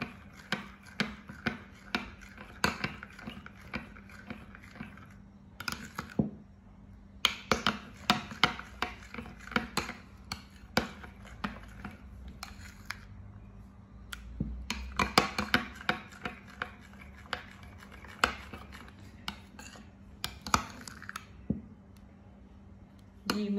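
A chilli mayo dip is stirred with lemon juice and salt, making rapid close clicks and taps of a spoon against a bowl that come in uneven bursts with brief pauses.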